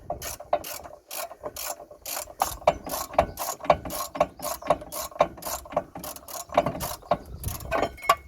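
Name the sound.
undoing bottom bolt on Kia Ceed rear brake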